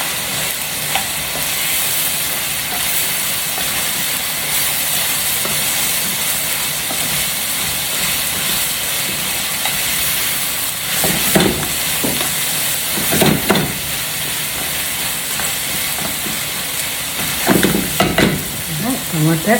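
Two slices of bacon fry in a pan with a continuous crackling sizzle, broken by a few louder utensil scrapes and clatters while being stirred and turned; no talk is heard.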